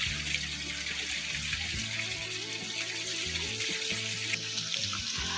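Water runs steadily from an old village spout in a constant close rush, with a low tonal hum and faint shifting sounds underneath and no talking.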